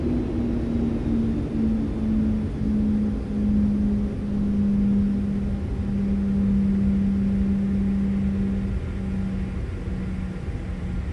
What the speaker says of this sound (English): engine number 2 is off. Listen to the spool down.